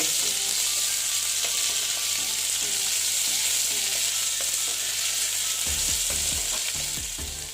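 Onions fry in hot oil for a betho saag dish, giving a loud, continuous close-up sizzle, with a few quick stirring knocks toward the end.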